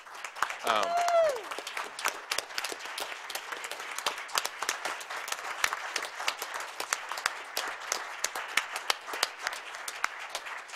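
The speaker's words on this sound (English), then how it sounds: "we should give them a round of applause because they're doing great work" An audience at a Rochester Board of Education business meeting applauds a student robotics team, with steady clapping throughout and a brief voice near the start.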